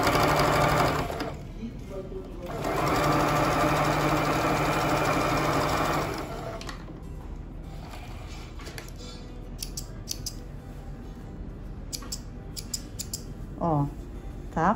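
Sewing machine stitching a fabric-covered cord for a pet bed, two loud steady runs of stitching separated by a short pause, followed by quieter handling of the fabric and scissors-like clicks with a voice talking.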